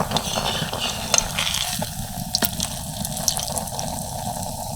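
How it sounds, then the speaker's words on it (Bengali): Mung dal malpua frying in hot oil, a steady bubbling sizzle with occasional stirring and clinks, close and continuous. "আরও একটা মালপোয়া বেশ উল্টে পাল্টে ভালো করে ভেজে নিয়েছি"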